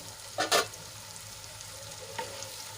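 Onions and tomatoes cook in a pan, a faint low sizzle running throughout, broken by a couple of sharp scraping stirs early on and another near the end.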